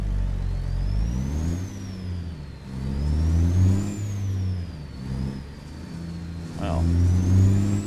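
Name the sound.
heavy haul truck engine shifting gears in video game American Truck Simulator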